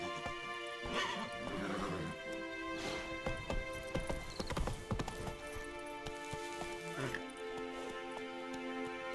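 Hooves of Roach, a horse in the video game The Witcher 3, clip-clop in a steady run close by over busy game ambience, with a few brief whinnies, thuds and clatters mixed in.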